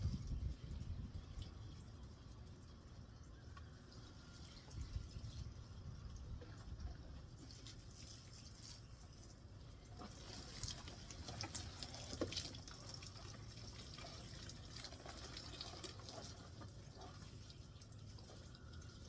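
Water poured from a watering can onto pepper seedlings sitting in trays on an indoor floor, a soft, continuous trickle and splash with a few faint drips, steady and fairly quiet throughout.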